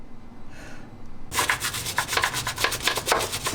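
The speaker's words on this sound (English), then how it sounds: "Scrub, scrub, and more scrub." Rapid rhythmic scrubbing rasps against rusty, grime-caked parts from a Mitsubishi Evo rebuild, starting after a brief quieter pause and continuing in quick close back-and-forth strokes.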